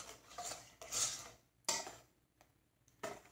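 A whisk stirring chess pie filling made with cornmeal and condensed milk in a bowl, quiet scraping and clinking in a few separate bursts with short pauses between them.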